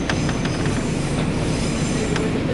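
A JR Hokkaido Rumoi Line train rumbles loudly along the tracks approaching its terminal station, with steady wheel noise and faint squeals, close by and continuous.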